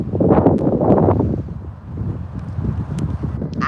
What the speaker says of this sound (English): But now all the sand is blowing now.